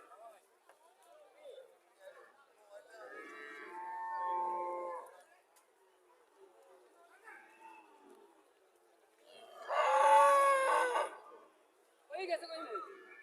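Several cows low at intervals amid a murmur of people talking at a cattle market in Comilla, one moo loud and near, others fainter.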